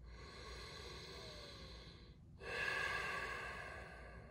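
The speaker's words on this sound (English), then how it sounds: "10 more breaths." Deep breathing during a yin yoga session: a long, soft, hissing inhale or exhale, a brief pause, then a stronger, breathy exhale, close and alone with no talking.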